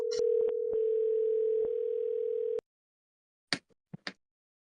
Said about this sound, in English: See, it's ringing once.